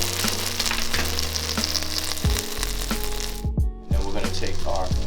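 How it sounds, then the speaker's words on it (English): Bourbon vanilla poured into hot caramel, a loud, steady close sizzle and bubbling with a few clinks of a utensil and a brief stir, continuing throughout. "We're gonna add our 1 teaspoon of bourbon vanilla."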